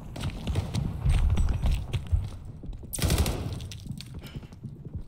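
Rapid bursts of automatic gunfire rattle through a Call of Duty Vanguard battle, dense clattering volleys pausing briefly before another sharp, loud burst around the middle, with no voices.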